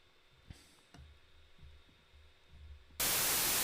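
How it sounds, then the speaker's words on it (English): White noise synthesized in JavaScript for a homemade synth, cutting in abruptly as a loud, steady hiss after a few seconds of low hum and faint clicks. "this is how the white noise sound."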